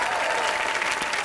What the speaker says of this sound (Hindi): शाहरुख खान के लिए जोरदार तालियां।